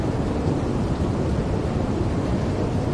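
Storm thunder rolls as a continuous, loud, broadband rumble mixed with the hiss of heavy rain, steady throughout with no voices.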